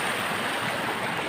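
Cold water from a mountain stream rushes continuously near a fishpond, a close, steady broadband gush with no talking.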